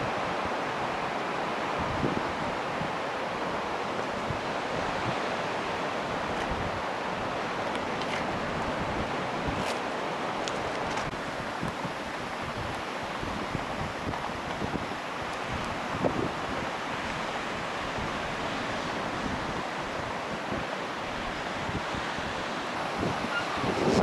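Steady waves and wind roll in on Juno Beach in Normandy, with continuous surf wash and gusty wind buffeting the microphone for the whole stretch. No one speaks.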